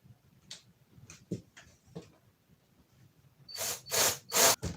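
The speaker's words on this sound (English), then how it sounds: "Drilling." A few short, faint clicks and taps, then three loud bursts of a power drill whirring close up in quick succession, while working on a Honda CB250RS motorcycle.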